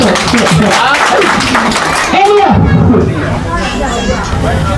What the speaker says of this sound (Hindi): एबे हमर कन्या पूजा जी के लागी जोरदार ताली बजाओ।